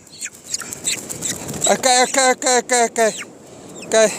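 A chicken clucks close by in a run of five evenly spaced, strained calls, then one more after a pause, with quieter scratchy sounds and stirring before them.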